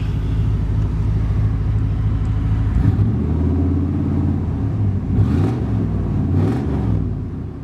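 A 1991 Chevrolet Silverado engine cranks and catches, then settles into a deep, loud exhaust rumble close by, with a couple of revs rising and falling near the end.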